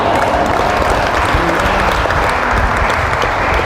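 A congregation at a worship gathering in Cavite City claps in praise, a dense, steady wash of applause from many hands lasting a few seconds.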